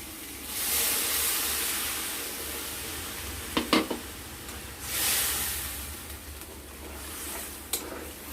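Water poured into a pan of frying katla fish curry sets off bursts of loud sizzling and hissing steam, with a few sharp spattering crackles and stirring over a steady fry, no voices.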